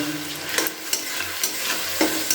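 Spiced masala sautéing in a hot pan for dhaba-style egg tadka, with a spoon scraping and stirring in several sharp strokes over a steady close sizzle.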